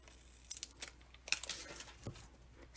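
Scissors snip through stacked Stampin' Up! cardstock pieces during card making, a few quick crisp cuts and rustles close by with no talking.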